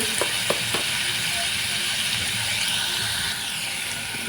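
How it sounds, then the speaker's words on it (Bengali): Green chilies, bay leaf, cumin, onion, garlic and ginger are stir-fried in a pan, giving a steady close sizzle broken by a few light clicks of stirring. "এখন কিন্তু এগুলির সাথে খুবই সুন্দর করে একটু নাড়াচাড়া করে ভেজে নিতে হবে"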